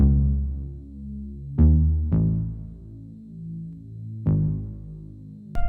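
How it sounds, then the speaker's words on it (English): Synth preset from a Massive sample pack in a pop-style production, sustained harmonic chords that swell and pulse, with sharp new attacks at roughly 1.6, 2.1, 4.3 and 5.6 seconds. "Then we're using a preset that I found on a sample pack on Massive."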